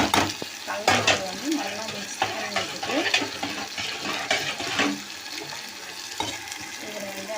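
Potatoes sizzle in a hot pan while a spoon scrapes and stirs them, with clattering strokes every second or so; a voice murmurs faintly at times.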